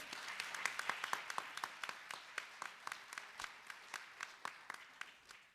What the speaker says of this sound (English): Let's give a big hand to the driving force behind Citizenship Now, Professor Allan Wernick.